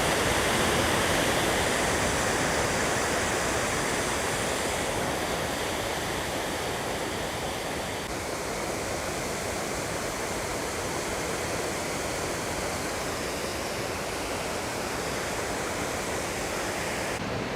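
Aysgarth Lower Falls in Wensleydale, a limestone waterfall, roaring as a steady broadband wash of falling water, loud and unbroken throughout with no voices.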